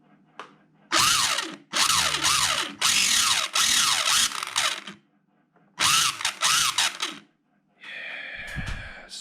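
A Tamiya Lunch Box CW-01 electric motor and gearbox spin the axles in several loud whirring bursts that rise and fall in pitch, separated by short pauses, with a different buzzing mechanical tone at the end.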